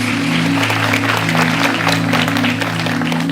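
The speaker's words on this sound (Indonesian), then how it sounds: "Berikan tepuk tangan kita untuk Tuhan kita." Applause from a church congregation fills the whole stretch, a steady dense wash of many hands clapping together at close range, with a sustained hum running underneath.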